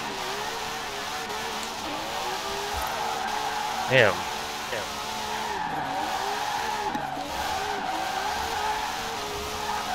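A car in Forza Horizon 4, at a stanced and widebody car meet with cruising and drifting, holds a steady engine drone while its tires squeal and skid, with a brief sharp burst midway. Someone speaks briefly over it.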